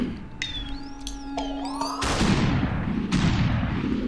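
Video game gunfire in SuperHot: synthetic swooping tones give way to a loud burst of booming shots with long rumbling tails, then a second blast, close and alone.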